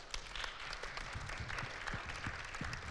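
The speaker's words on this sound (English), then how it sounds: "I'm judging from the applause that we have a winner." Audience at a Bible quiz exhibition tournament applauds a winning team, a soft, continuous wash of many hands clapping that stays steady for about three seconds, heard from a distance.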